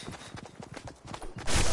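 A horse gallops in Fortnite with a quick, steady clip-clop of hooves in rapid rhythm, close and clear, followed by a louder rushing burst at the end.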